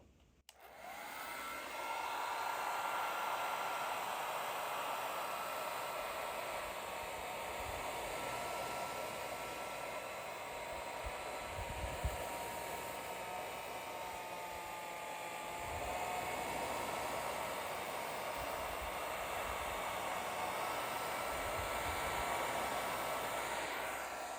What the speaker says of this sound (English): Third method, I'm going to use hair dryer. And I'm gonna set this one to high